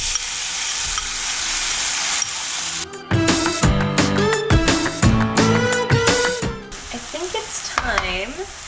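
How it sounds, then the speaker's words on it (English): Shiitake mushrooms sizzle and are stirred in a pot on a home stove, with steady frying hiss, scraping of the utensil and some squeaky tonal sounds, close and with no talk. "It's time for shiitake."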